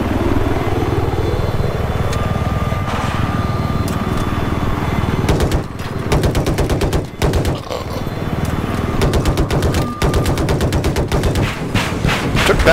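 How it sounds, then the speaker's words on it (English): Gunfire in the shooter game Battlefield 4, with a loud engine rumble first, then rapid bursts of automatic fire in fast rhythmic volleys, some distant shots mixed in. "Someone's shooting at us. Trying to kill us."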